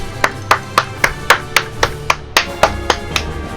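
Rapid, evenly spaced hand claps, about a dozen sharp smacks in quick succession, loud and close, with no talking.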